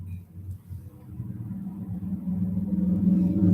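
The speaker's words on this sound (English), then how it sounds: "Oh, the sound of traffic." Steady low road rumble of traffic on a busy street, cars passing close by and swelling louder toward the end, with no talk over it.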